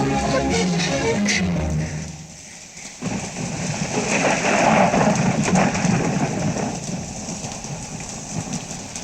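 Steady rain hisses on surfaces while low thunder rolls underneath and swells in the middle. A faint murmur comes in at the start before the downpour takes over.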